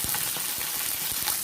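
Onion fries with fenugreek leaves in a pan for fish curry, producing a brief, even hiss of sizzling oil with a few faint stirring scrapes close by.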